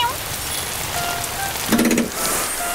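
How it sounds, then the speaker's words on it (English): Cartoon rain pours from a weather machine in a Postman Pat animated scene: a steady, even hiss of falling rain fills the whole stretch, with a short tonal sound cutting in briefly near the middle. "It is now raining."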